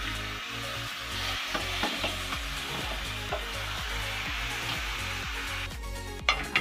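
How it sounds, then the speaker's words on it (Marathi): Marinated mutton and ground masala go into hot oil tempering in a pan for Malvani mutton, giving a continuous loud sizzle with regular scraping stirs and clinks of a spoon against the vessel. "आता आपण हे याच्यात फोडणीला घालत आहोत।"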